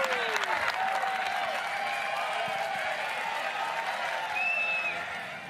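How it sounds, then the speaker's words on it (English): Broadcast booth applause for Åberg's bunker shot during round 2 of the 2024 Memorial golf tournament: steady, dense clapping from a gallery crowd that holds for several seconds, then fades slightly at the end. "The host is applauding here in the booth."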